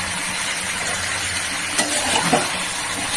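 Desi country-chicken curry being stir-fried in a pan, heard as a continuous close sizzle with a few scraping, clinking stirs near the end.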